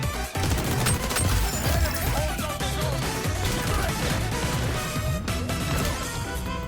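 Gunfire rattles through a match of the shooter video game XDefiant, a loud, dense, continuous barrage of rapid shots and impacts layered throughout.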